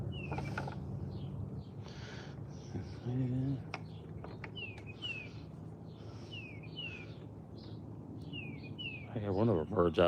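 A Carolina wren sings bright, repeated phrases from a distance over low background murmur, with a voice briefly heard near the start and end.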